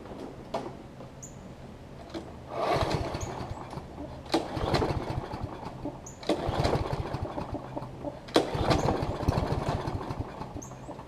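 A Toro Personal Pace self-propelled lawn mower is cranked. Several quiet, rough pull-start bursts come every two seconds or so, with the engine briefly catching and sputtering rather than settling into a steady run.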